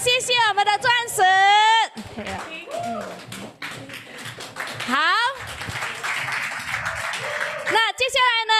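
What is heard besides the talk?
audience applause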